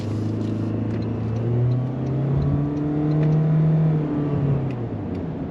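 A 2026 Toyota Corolla Cross S all-wheel-drive hybrid SUV accelerating in sport mode, a smooth rising engine drone with whirring electric motor tones that climbs, dips and climbs again, heard from inside the cabin with steady road rumble.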